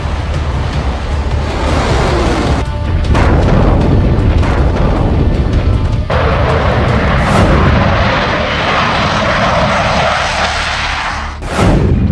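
A Rafale fighter jet roars loud and close in a broad, sustained rumbling wash of engine noise that swells and shifts, with brief cuts in the sound and no talking.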